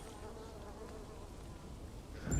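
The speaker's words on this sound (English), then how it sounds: "A beehive full of honey." Bees drone steadily around a honey-filled beehive in the Dying Light 2 video game, a continuous low insect hum throughout that swells a little louder right at the end.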